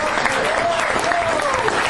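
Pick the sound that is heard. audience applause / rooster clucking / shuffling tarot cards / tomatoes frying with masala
audience applause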